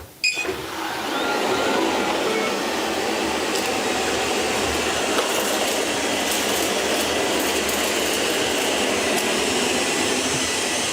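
Two Shark AI Ultra robot vacuums start cleaning together on carpet, making a loud, continuous whirring drone with faint rattles and clicks that holds steady after a short start-up.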